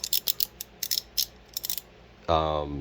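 A GearWrench flex-head quarter-inch ratchet from a socket kit clicks in quick, close, crisp runs, followed by a brief louder tonal scrape or creak at the end.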